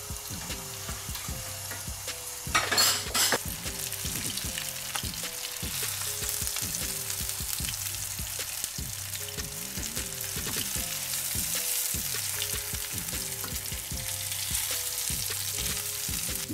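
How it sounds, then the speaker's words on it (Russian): Steady frying sizzle of meat medallions in a pan, with a faint rhythmic background pattern, continuous and close, with a brief louder clatter near the start. "И отправляем их на сковородку"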